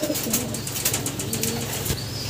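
Pigeons in a loft cooing close by, soft throaty coos repeating over a dense background of wing flutters and shuffling, no talking.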